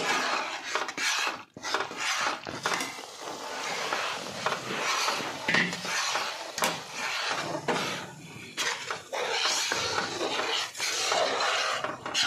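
Ghee-rich Mysore Pak stirred steadily in a pan, a continuous close scraping and rasping of spoon against metal with soft sizzling, busy and irregular throughout, no talking.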